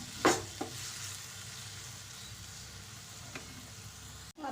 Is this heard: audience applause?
no